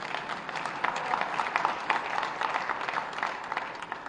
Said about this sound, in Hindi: इस पे कितनी जोर की ताली बजी है।